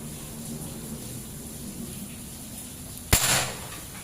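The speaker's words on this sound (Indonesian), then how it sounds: "Sekarang kita tembak batu bata masih dengan track satu saja" A single sharp impact of a PCP air rifle pellet striking a brick, a sudden loud crack with a brief crumbling tail, standing out once against a steady background hum.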